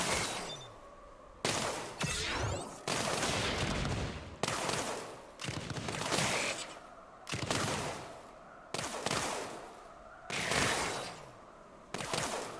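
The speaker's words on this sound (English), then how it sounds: "I need more blast cannons for taking out these groups." Blast cannons fire in the tower defense game Axon TD: Uprising, a series of about nine sharp, loud booms at a roughly regular pace, each followed by a decaying rumble, with no talking.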